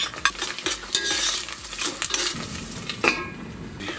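Onions and mushrooms sizzle and crackle in a hot pan, punctuated by scraping stirs and clinks of a utensil against the metal.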